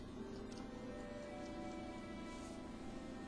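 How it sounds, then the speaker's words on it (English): Steady rain falling, a continuous soft hiss of drops pattering on a surface, faint and even throughout with no voices. "that's the rain, though."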